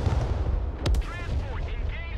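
Weapons fire in the Broken Arrow real-time strategy game: one sharp, booming shot over a low rumble, then softer whooshing and whistling effects of fire trailing away.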